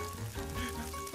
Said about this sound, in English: and then you saute them a little bit